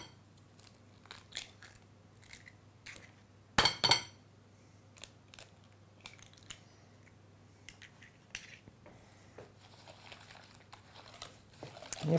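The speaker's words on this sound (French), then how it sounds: "On fouette bien." Eggs being whisked into banana bread batter, heard as a string of light clinks and scraping taps against a bowl, with one louder clatter partway through.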